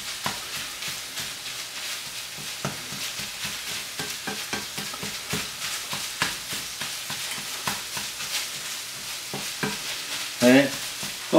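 Sausage sizzles steadily in a frying pan while a utensil breaks it up, giving repeated scraping and clacking strokes at an irregular pace over the continuous frying hiss.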